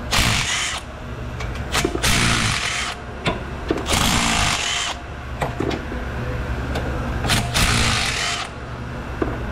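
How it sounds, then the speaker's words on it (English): A ratchet with a 13 mm socket works axle cover bolts loose on a Ford Mustang: loud, repeated bursts of harsh metallic clicking with brief pauses between strokes, close up and without talk. "Begin bolt removing procedure now. Not with the wrong socket, I'm not. Try again with a 13."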